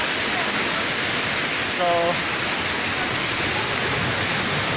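Pangyan Falls in Davao Oriental pours as a loud, steady, unbroken rush of water close by, with a brief spoken word over it.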